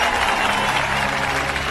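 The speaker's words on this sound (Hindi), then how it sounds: "ताली बजाओ," A crowd claps in a steady, dense wash of applause that fills the whole moment, loud and close, with no clear gaps between hands.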